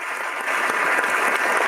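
A burst of crowd applause, dense steady clapping that swells slightly partway through and holds at a moderate, even level.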